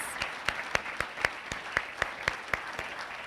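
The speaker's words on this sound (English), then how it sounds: "Please join me in a round of applause for Ecolab." Applause at an industry awards ceremony, rather faint and sparse, with distinct regularly spaced claps standing out over a soft bed of clapping.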